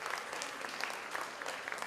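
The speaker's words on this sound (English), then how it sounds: "Give Equity Bank a round of applause" Audience applause at a banking awards ceremony, a steady wash of many hands clapping at moderate volume with a few sharper individual claps.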